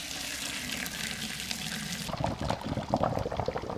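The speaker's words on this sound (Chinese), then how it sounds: "直接倒入豆浆。" Soy milk poured through a gauze cloth into a basin, a steady liquid splash that turns into a heavier gushing pour partway through, close and continuous.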